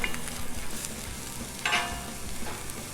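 Thin-sliced sweet onion fries in oil on a Blackstone griddle, a steady close sizzle with a brief louder burst of spatter as the slices are tossed.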